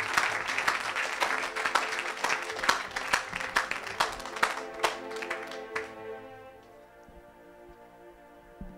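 A church congregation at a worship service claps and applauds loudly in dense bursts with some voices, then the applause fades out into quieter sustained tones.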